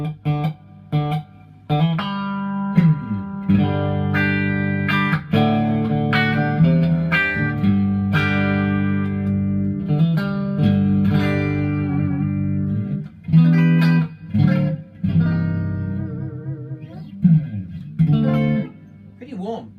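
Electric guitar, a 2013 signature model, played through a Laney VH100R amp with reverb, giving warm sustained chords and single notes with short pauses between phrases, close and prominent.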